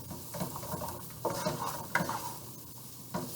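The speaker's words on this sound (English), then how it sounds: "So now you want to stir that for 1 minute. Cook that for 1 minute." Food sizzles and fries in a pan, and a utensil stirs it with intermittent scraping knocks over a steady, quiet crackle. Nobody speaks.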